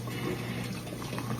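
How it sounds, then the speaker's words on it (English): Water from a garden hose pours steadily into a basin, a continuous close splashing and gurgling flow with a low hum beneath it and no gaps. "the hose is running into here, and that's what's creating that water"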